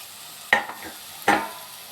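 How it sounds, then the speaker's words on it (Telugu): Masala frying in a pan for aloo kurma as tomatoes go in, giving two brief stirring scrapes and soft sizzles about a second apart, close and moderately quiet with no voices. "మసాలా బాగా ఫ్రై అయింది ఫ్రెండ్స్. ఇప్పుడు మనం దీనిలో టమాటాలు వేసుకుందాం."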